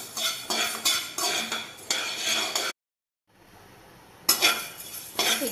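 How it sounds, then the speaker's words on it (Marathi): Coriander seeds being dry-roasted in a pan for chakli flour, a utensil scraping and clinking against the metal in quick bursts with a brief silent break midway. "धने आपण व्यवस्थित भाजून घ्यायचे आहेत।"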